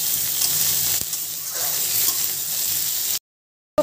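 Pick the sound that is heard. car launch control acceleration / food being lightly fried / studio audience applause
food being lightly fried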